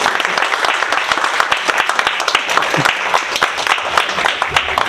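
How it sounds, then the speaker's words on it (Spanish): An audience at a lecture applauds the speaker Marta with sustained, dense clapping that carries on for the full five seconds. Faint voices sit underneath the applause. "a quien por favor le vamos a dar nuevamente un fuerte aplauso"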